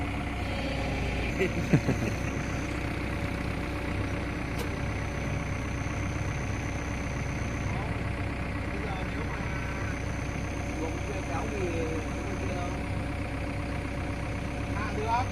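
A vehicle engine idles with a steady low rumble, constant and fairly close, while people talk faintly in the background.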